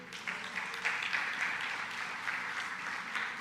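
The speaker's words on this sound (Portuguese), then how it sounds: "Aplauda o Senhor por isso." A church congregation claps steadily in a large room, a continuous wash of applause at moderate volume with no voices on top.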